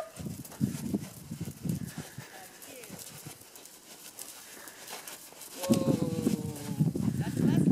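Hooves of a pony walking during a riding lesson thud softly and irregularly at close range, with a rider's and instructor's voices heard over and between the steps.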